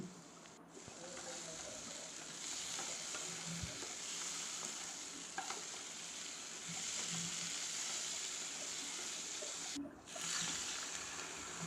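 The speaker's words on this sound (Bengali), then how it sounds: "তো আলু দিয়ে মশলা দিয়ে একসঙ্গে আবার একটু মিশিয়ে কষিয়ে নিচ্ছি" Potatoes and spices stir-fried together in a pan for a simple home-cooked Bengali dish, giving a steady loud sizzle throughout with occasional scraping and stirring clicks, and no talking.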